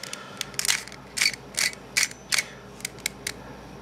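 V-Cube 3 twisty puzzle with smooth pieces turned roughly, a series of sharp clicking and grinding snaps in irregular bursts, close and fairly crisp.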